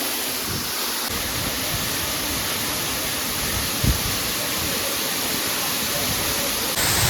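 Steady broadband roar of a waterfall near Bargarh, heard close and loud as a constant rushing wash of water that barely varies from start to finish.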